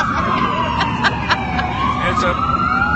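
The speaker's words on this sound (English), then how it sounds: "you could hear us over the sirens" Several emergency sirens wail and overlap, rising and falling in pitch amid loud city traffic noise, with people talking nearby.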